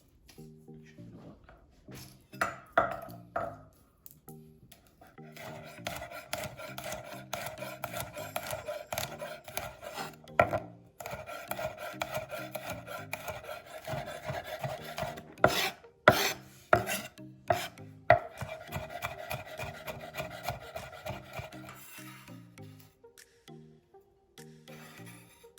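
A knife chops and scrapes garlic on a wooden board in quick, uneven bursts of close, crisp taps with rasping scrapes between them. No one speaks.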